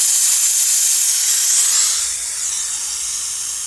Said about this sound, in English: Now we're going to let the pressure out of the system.